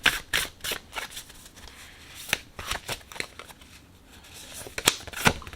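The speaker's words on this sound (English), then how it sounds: "We're just going to throw one more oracle card, and let's see what we get" A deck of Goddesses, Gods, and Guardians oracle cards is shuffled by hand close up, producing a rapid series of crisp riffling snaps and flicks in uneven bursts, with no talking.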